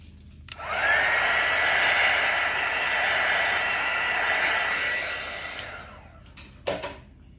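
A heat tool blows across an acrylic paint pour in a steady, close, hissing rush of air lasting several seconds, starting and stopping with brief clicks and a short final burst.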